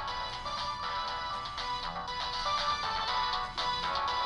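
A mobile phone ringtone plays a steady, melodic electronic tune in an indoor scene from a Turkish TV drama. It keeps going without a break, fairly loud and close, with no one talking.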